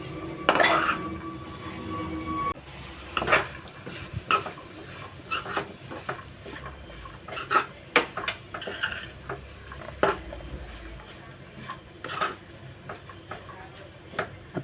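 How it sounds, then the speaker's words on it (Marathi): A spoon scrapes and clinks against a pan while taykala leaf vegetable curry is stirred, in irregular scraping strokes with occasional sharp metallic knocks, fairly close, over a quiet background with soft speech. "चांगले ढवळून घेऊया."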